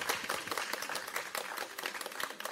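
An audience at the press launch for the SBS drama Good Partner claps as the director walks on stage, a quick, thick patter of many hands that stays fairly soft and distant but constant for a couple of seconds.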